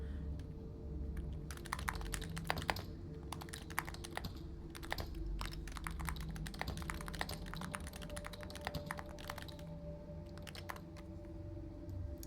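Rapid keyboard typing in the data-entry game Dead Letter Dept., with dense bursts of clicking keys over a low steady hum and no speech.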